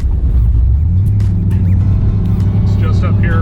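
A car rolls steadily up to a local dealership, its engine and road noise a loud continuous low rumble, with a voice faintly audible over it.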